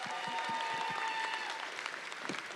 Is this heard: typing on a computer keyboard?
no